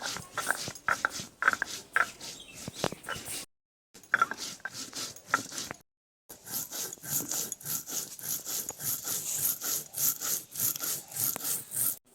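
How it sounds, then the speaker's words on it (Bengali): Cumin and chili being ground by hand on a grinding stone, a steady rhythmic scraping and rubbing of stone on stone, close and fairly loud, with two brief pauses early on before the strokes resume continuously. "আগে জিরে লঙ্কা বেটে দিচ্ছে"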